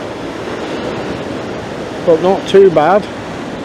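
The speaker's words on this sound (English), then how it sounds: "So the waves are crashing a little bit" Sea waves wash in at a seaside pier as a steady, moderate roar of surf and wind, with someone talking briefly over it near the end.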